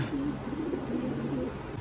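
Pigeons of Andhra, Malwai and Madrasi breeds kept for sale give a low, steady cooing that runs through the whole stretch, close by and moderately loud, with no talk over it.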